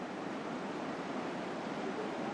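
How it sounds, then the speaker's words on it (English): A waterfall in the Canadian Rockies pours down into a river, giving a steady, full rushing roar with no pauses and no voices. "Waterfall coming all the way down to the bottom."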